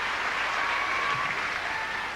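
An arena crowd applauds after a women's gymnastics floor routine at a team championship, a steady wash of clapping that holds for the whole stretch and then fades slightly at the end.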